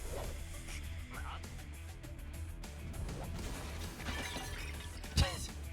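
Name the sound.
stock glass jar shattering sound effect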